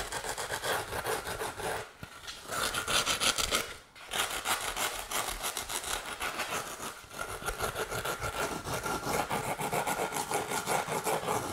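Carving tool scrapes and rasps steadily against a foam or wooden form for a largemouth bass skin mount, rounding off the flattened tail area in close, continuous strokes with two short pauses.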